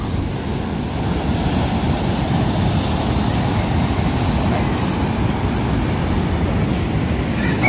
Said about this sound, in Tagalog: ang alon medyo malalaki pa rin, pero kalmada na